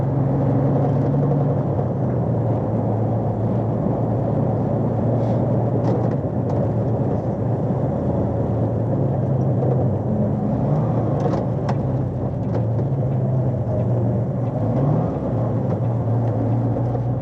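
A heavy truck driving on an icy, gritted Arctic road, a constant loud engine drone with road rumble throughout, heard from inside the cab with no talk.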